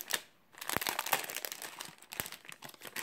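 Plastic bags crinkle and rustle in bursts as a parcel is unpacked, with close, sharp crackles coming in irregular clusters and a brief pause near the start.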